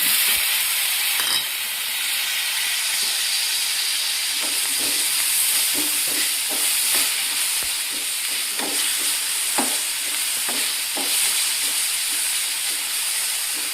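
Tomato pieces frying in a pan for a village-style dried anchovy and bottle gourd curry make a constant hissing sizzle, with intermittent light spatula taps and stirring clicks nearby.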